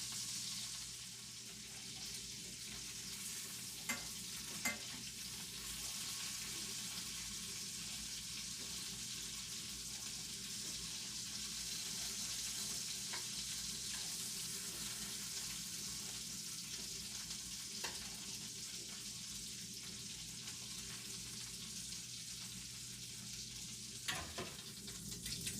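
Meatballs fry and caramelize in a pan, producing a soft steady sizzle that holds evenly throughout, with a few faint clicks and taps along the way.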